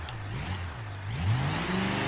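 A car engine revs and climbs in pitch in BeamNG, accelerating through gear changes with a rising whine and tire roar, loud and close with no talk.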